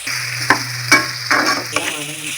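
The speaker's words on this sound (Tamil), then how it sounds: "வெண்டைக்காய் பொரியல் செய்யும்போது கொஞ்சம் எண்ணெய் கொஞ்சம் எக்ஸ்ட்ராவே சேர்த்துக்கோங்க" Okra sizzles and crackles steadily in hot oil as it is stir-fried, with a few sharper stirring scrapes against the pan standing out from the continuous frying hiss.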